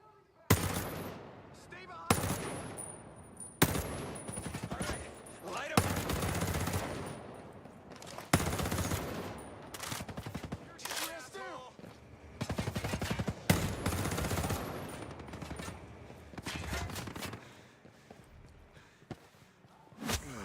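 Bursts of fast automatic weapon fire from a high fire-rate gun in Ghost Recon Breakpoint, several loud sustained volleys separated by short pauses.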